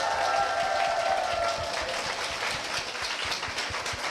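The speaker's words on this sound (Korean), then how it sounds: "박수 부탁드립니다" Church congregation applause for a pastor and a Holy Spirit ministry training institute, a fairly soft wash of clapping that starts fuller and thins out over a few seconds.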